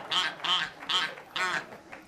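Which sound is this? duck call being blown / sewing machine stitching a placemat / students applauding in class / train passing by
duck call being blown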